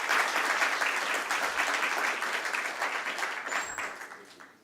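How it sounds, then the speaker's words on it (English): Audience applause fills the hall at the listing ceremony of Niva Bupa Health Insurance, with a steady, dense round of clapping that gradually tapers off over nearly five seconds. "Let's welcome him with a round of applause."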